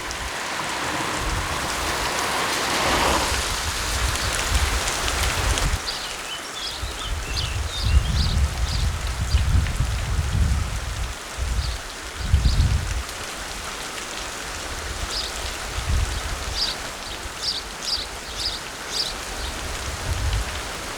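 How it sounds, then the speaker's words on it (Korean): Steady rain falls through the Białowieża forest, a dense hiss of drops on leaves and surfaces, with faint bird calls chirping intermittently in the background. "어느 정도 빗줄기가 약해진다"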